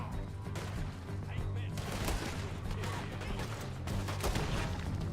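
Gunshots in the Red Dead Redemption 2 video game: several sharp, loud cracks land over a steady low rumbling backdrop, spaced unevenly through the moment rather than in a continuous burst.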